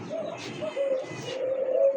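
Pigeons at a pigeon farm coo softly in low, steady murmurs that rise and fall over a couple of seconds, fairly close, with no clear talk.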